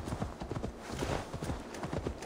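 Horse hooves clip-clop in the video game Assassin's Creed Valhalla, a quick irregular run of soft thudding footfalls at moderate distance, fairly faint overall.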